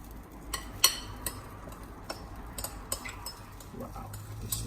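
Sesame seeds popping and rice crackling in a hot stone bibimbap bowl over a raised flame, heard as scattered sharp ticks and crackles at an irregular pace over a steady low sizzle-like hiss.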